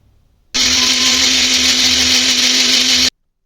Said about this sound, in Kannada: ಇದನ್ನು ರುಬ್ಬೋದಕ್ಕೆ ಒಂದು ಸ್ವಲ್ಪ ನೀರನ್ನ ಹಾಕ್ಬಿಟ್ಟು ಇದನ್ನು ಸಾಫ್ಟಾಗಿ ನಾವು ಪೇಸ್ಟ್ ಮಾಡ್ಕೋಬೇಕು